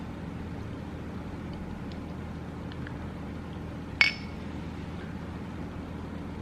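Mugs of pumpkin spice latte clink once in a toast, a single bright, brief tap over a quiet steady background hiss.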